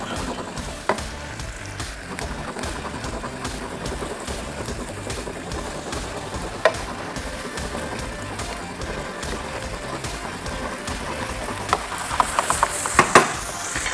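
Coriander deep frying in oil in a tilted pan, a steady dense sizzle and crackle with occasional sharper pops near the end, no talking.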